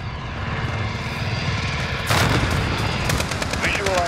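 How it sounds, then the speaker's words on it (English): Rapid automatic gunfire rattles loudly in a first-person shooter firefight, bursts layered over a droning aircraft overhead, growing denser and closer midway. "We're taking fire up here"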